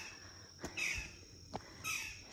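Two brief, faint bird calls, harsh and crow-like, ring out in a village about a second apart over quiet background ambience.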